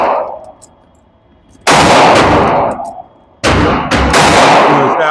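A Sig P365 pistol fitted with an Icarus FDEZ fuse fires nearby, loud sharp reports with long echoing decay, one shot followed by a couple more close together.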